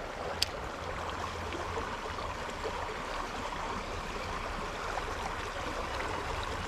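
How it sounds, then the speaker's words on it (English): Fast-flowing river water rushes in a steady, even wash, close and continuous, with no voices. "That fast water."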